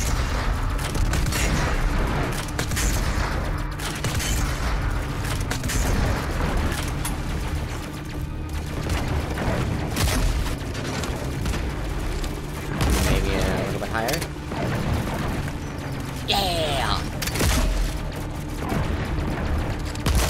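Gunfire from a distance in Doom Eternal, dense mechanical weapon bursts and booms running steadily through a busy game soundtrack, with a few sharper rattling volleys standing out near the middle and end.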